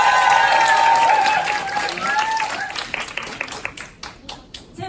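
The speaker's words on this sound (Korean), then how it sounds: "알고 환호해주신 것 같죠?" A large meeting audience at a Twins Group gathering cheers with raised voices and claps loudly, the cheering fading after a few seconds into steady, thinning applause with distinct close hand claps.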